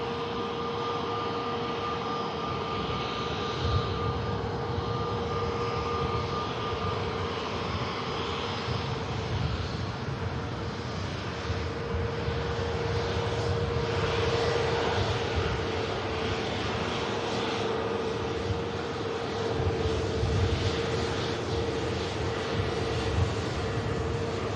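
An airliner departs Manchester Airport on a rainy day, its jet engines roaring steadily and loud throughout, a broad sustained rumble without pause.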